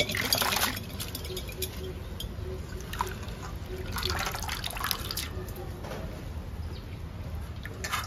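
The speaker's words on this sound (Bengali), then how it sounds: "এবার ভালো করে ধুয়ে নেব।" Water runs and trickles while fresh mint leaves are rinsed for chutney, a steady close splashing with soft handling noises underneath, continuing throughout.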